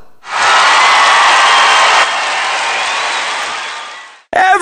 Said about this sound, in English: Everybody is cheering! The crowd loves you!